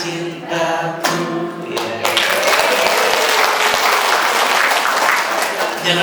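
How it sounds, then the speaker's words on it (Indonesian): A congregation at a New Year Mass applauds after a song. The last sung notes fade out first, then a dense burst of clapping fills the church and continues steadily. "Jangan tepuk tangan dulu"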